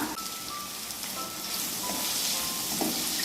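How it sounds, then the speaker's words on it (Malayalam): Three medium onions with salt sauté in a pan for a Kerala-style chicken curry, giving a soft, steady sizzle with faint stirring noises and no talk. "മൂന്ന് മീഡിയം സൈസ് സവാളയാണ് ചേർക്കുന്നത് അത് നല്ലപോലെ തന്നെ ഗോൾഡൻ കളർ ആവുന്ന വരെ ഒന്ന് വഴറ്റിയെടുക്കണം"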